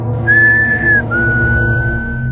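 A person whistles two long, sustained, slightly wavering notes, the first rising a bit, clear and close over a low background hum.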